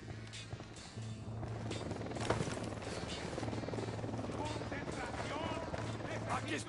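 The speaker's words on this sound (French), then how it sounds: "Hélico de l'Unidad en approche." A Unidad helicopter approaches in the video game Ghost Recon, a steady low rotor drone running throughout under nearby talk and scattered game noise.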